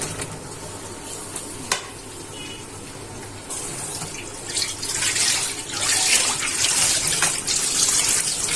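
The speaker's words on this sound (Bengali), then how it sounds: "নুডলসটা সিদ্ধ হয়ে গেছে, এখন ছেঁকে নিচ্ছি।" Boiled noodles drain through a strainer as hot water runs and splashes steadily, growing louder and fuller partway through, with faint clinks of utensils; no talk.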